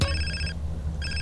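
A phone rings in the video game GTA San Andreas, two bright electronic trill bursts separated by a short pause, loud and close with no talk.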